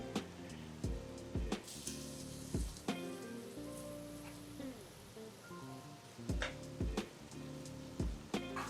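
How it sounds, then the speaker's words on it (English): Korean bulgogi sizzles steadily in a pan after onion, scallion and enoki mushrooms go in, with repeated sharp clinks and scrapes of a utensil against the pan over the frying. "This is where we're gonna add our onion, scallion, and enoki"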